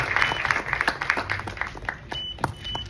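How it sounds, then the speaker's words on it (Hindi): An audience at a televised film interview bursts into applause, a dense wash of many hands clapping steadily for nearly three seconds before thinning out, fairly close and loud. "एक बार जोरदार तालियां हो जाएं।"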